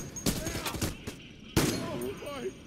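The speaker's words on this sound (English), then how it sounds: "I like the sound of this gun." Gunfire from the heist shooter game Payday: The Heist sounds as loud bursts of rapid shots in two clusters, with a voice talking over the shooting.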